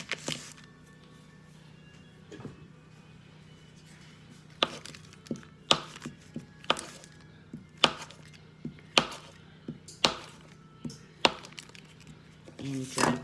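Half a stick of butter is cut into chunks with a knife on a cutting board: a quiet series of sharp, irregular knocks and taps against a hushed room hum.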